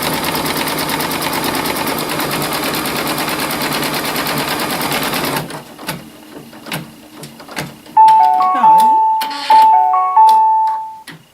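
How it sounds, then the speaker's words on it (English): An embroidery machine sounds a short series of bright electronic beep tones as a ready chime, following loud steady whirring of stitching that stops midway, leaving quiet clicks before the chime. "And there's our chime. Now the machine is ready to go into the actual design."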